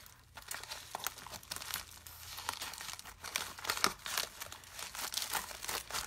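A package is handled and cut open, giving a continuous close series of crinkling and crumpling rustles with sharper tearing bursts throughout.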